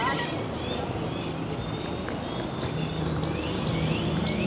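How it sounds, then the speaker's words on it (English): Birds honking along a busy street in Jaco, Costa Rica, a dense goose-like chorus of repeated calls over constant traffic and street noise, fairly loud and continuous. "A lot of birds."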